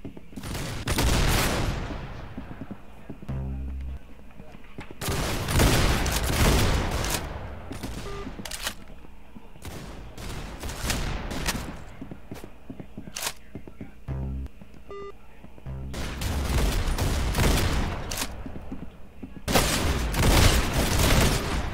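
Shotgun gunfire in the Roblox Arsenal video game comes in clusters of sharp, loud blasts with short quiet gaps and occasional game beeps, running throughout.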